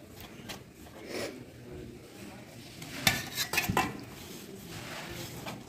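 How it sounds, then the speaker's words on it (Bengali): Flour dough is worked with sour yogurt in a bowl for a no-yeast pizza base, giving soft squelching stirs and a few distinct clinks of a utensil against the bowl, fairly quiet and close. "এই টক দই দিয়ে আমি সমস্ত জিনিসটাকে ভালোভাবে মাখিয়ে নেব।"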